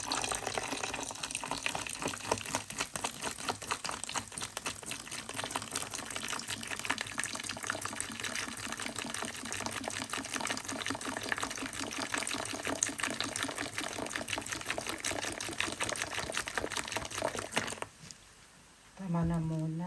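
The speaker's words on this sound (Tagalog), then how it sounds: "lalagyan natin ng soda" Soda pours in a steady gushing, fizzing stream into a barbecue marinade with ketchup at a campsite, continuous and close for many seconds before stopping abruptly, with a voice at the end.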